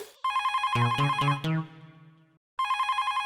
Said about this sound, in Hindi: फोन मैं उठाता हूँ वरना फोन भी तोड़ देगा